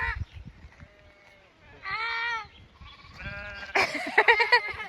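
Human voices imitate goat bleats: several wavering, nasal calls, some drawn out and some shaky, trade back and forth up close on a family walk to a waterfall in North Wales.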